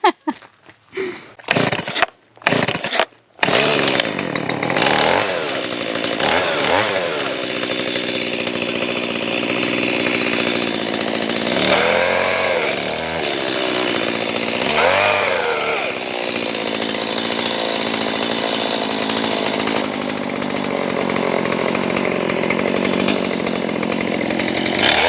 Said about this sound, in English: pulling his second chainsaw out of his boat